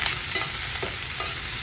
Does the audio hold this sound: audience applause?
no